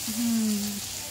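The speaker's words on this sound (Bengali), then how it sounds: "এটা রুই মাছ ভাজা হচ্ছে।" Rohu fish fries in oil at a small hotel eatery by Gopalnagar station, a steady close sizzle and crackle while a brief voice sounds over it.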